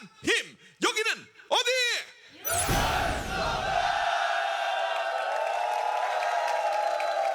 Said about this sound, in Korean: 자, 그럼 함성 한번 크게 외치고 시작해 보도록 하겠습니다